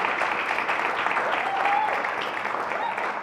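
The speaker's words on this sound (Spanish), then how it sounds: "Un fuerte aplauso a Grace" Steady applause from an audience, dense even clapping that stays level throughout, with a faint voice rising briefly through it.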